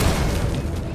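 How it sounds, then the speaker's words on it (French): A dense, booming explosion in Batman: Arkham Knight, a loud continuous rumble filling the low end with crackling bursts throughout. "L'explosion a endommagé le canon principal."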